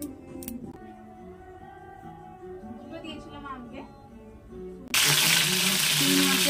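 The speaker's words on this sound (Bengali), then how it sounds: "চিংড়ি মাছটাকে ভালো করে ভেজে নিয়েছি।" Shrimp fry in a pan and burst into a loud, steady hiss of sizzling partway through, after a stretch of quieter kitchen sounds with a voice speaking.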